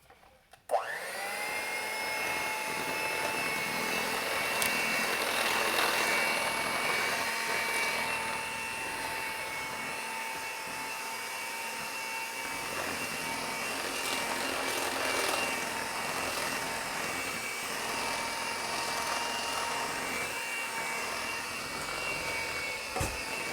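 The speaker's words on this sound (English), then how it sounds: "And I mix it with the mixer as long as I can." An electric hand mixer kneading a hefty batch of Easter bread dough made with all-purpose flour, whirring as a steady, loud motor drone that runs without a break for over twenty seconds, with no talking.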